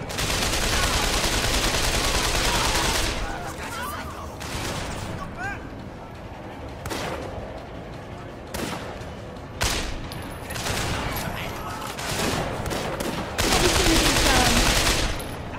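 Gunfire in the Sleeping Dogs open-world city game: bursts of rapid shots and loud cracks in an ongoing firefight, with a dense loud opening burst and scattered shots after, under game noise and some voices.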